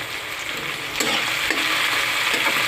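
Chopped ginger and garlic frying in a pan, a loud continuous sizzle that swells slightly partway through, with a few light stirring scrapes and no talk.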